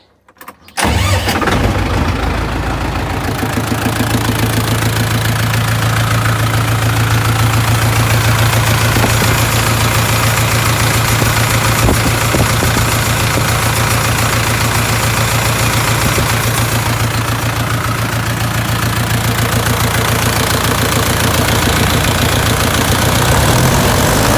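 A Lovol tractor's engine runs steadily at idle, a loud continuous mechanical drone with a low throb that holds unchanged for the whole stretch after a brief start, with no talking.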